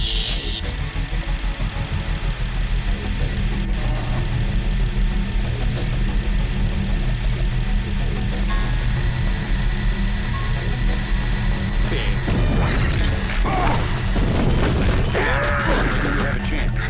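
A harsh, droning electronic EMP effect from the Deus Ex video game, sustained and loud throughout with a dense mechanical hum, getting busier and more crackly toward the end.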